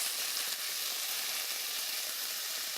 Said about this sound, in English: let it get pan fried and turn into a roasted pink color